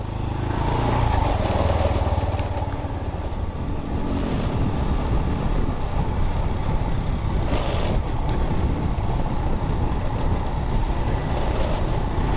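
A Honda Forza scooter on a ride, its steady engine drone and road rumble mixed with wind buffeting the helmet microphone, loud and continuous throughout.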